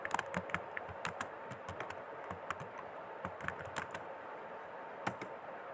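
Keys clack steadily on a computer keyboard as salary sheet headings are entered into an Excel spreadsheet, with quick irregular taps and a few louder strikes over a faint room hiss, no voices.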